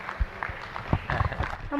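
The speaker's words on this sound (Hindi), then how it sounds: "एक बार ताली बजा दो" Scattered clapping comes from an audience at a Shanka Samadhan religious discourse gathering with a spiritual leader, uneven and fairly sparse, mixed with voices.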